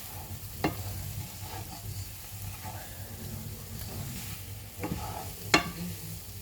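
A flour mixture for a chicken, mushroom and leek bake sizzling gently in a pan, with a low steady fry broken by a few sharp scraping stirs, and no talking.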